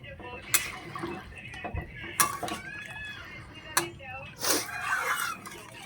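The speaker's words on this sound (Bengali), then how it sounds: "এধার ওধার করে একটু নাড়াচাড়া করে দিতে হবে" Fish and eggplant curry with potatoes stirred in a pot, with several sharp metallic clinks and scrapes of a spoon against the pot at irregular intervals, close by, mixed with a person talking.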